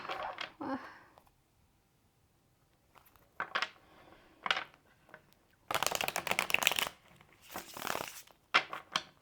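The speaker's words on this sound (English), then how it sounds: "Let's do one more shuffle." Tarot cards are riffled and shuffled in several quick bursts separated by pauses, crisp and close, with a soft voice briefly at the start.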